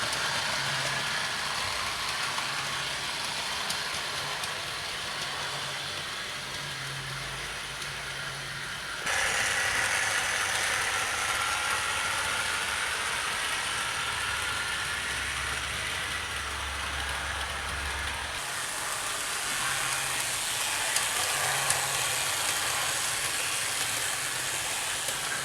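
Hornby Class E2 model locomotive running smoothly on track, a continuous soft mechanical whirr and faint rail clatter that shifts in level partway through, steady and close with no talk.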